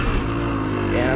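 A motorcycle's rear wheel spinning during a wheelie attempt, a loud, steady engine drone held close for a moment with no clear break.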